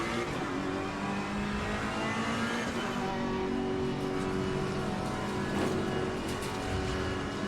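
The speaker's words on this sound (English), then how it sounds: "This Ferrari's so hard to get going." A Ferrari race car in Assetto Corsa Competizione accelerates hard, its engine droning and climbing in pitch, loud and steady throughout with no talking.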